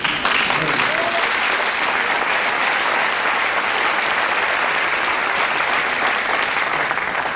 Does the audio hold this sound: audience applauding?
yes